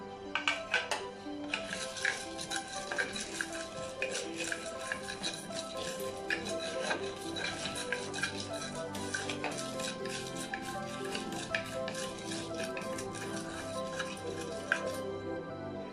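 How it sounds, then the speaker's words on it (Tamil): Black pepper, cumin and fennel dry-roasting in a pan for chicken pepper masala, with a utensil repeatedly clinking and scraping against the metal in a continuous busy patter, close by. "இப்போ வச்சுருக்க மிளகு, சீரகம், சோம்பு இதை வறுத்துக்கலாம்."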